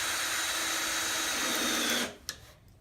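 A power drill whines steadily while driving long drywall screws into a skylight frame, loud and close for two seconds before stopping, followed by a brief knock and quiet.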